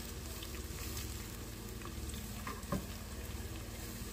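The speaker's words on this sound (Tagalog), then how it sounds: "Ilalagay ko po ng bahagya ang mga bola-bola na isasahog ko." Chicken meatballs for patola fry in a pan with a steady, dense sizzle that holds evenly throughout, close and moderately loud, with a faint clink partway through and no talking.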